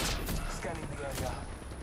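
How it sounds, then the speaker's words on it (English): Video game gunfire in an online shooter, a quick run of rapid shots crackling in a burst over a short stretch, fairly close and busy, with game noise around it. "Shooting Jeff in his back some more."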